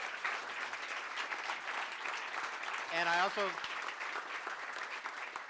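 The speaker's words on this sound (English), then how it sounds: "this esteemed group of mayors deserve a round of applause" Applause from an audience at a mayors' panel event, a steady wash of clapping with a voice speaking briefly over it midway.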